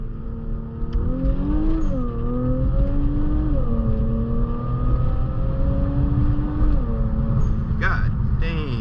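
An Infiniti Q60 Red Sport pulls hard through several gears, its engine note climbing steadily, dropping at each shift and climbing again. It is loud and close from inside the cabin.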